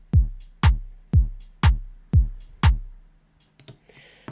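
Drum machine pattern from Logic's Ultrabeat: six evenly spaced punchy kick hits with a clap layered on the off beat, loud and dry, ending in a brief noisy burst, no talking.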